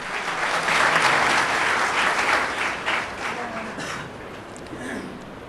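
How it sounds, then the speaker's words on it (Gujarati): An audience at a motivational talk for GPSC-UPSC competitive exam aspirants bursts into applause. The clapping is loud and dense at first, then slowly thins and fades, with a faint murmur from the crowd. "એની નિષ્ઠા માટે તાળીઓનો ગડગડાટ કરો"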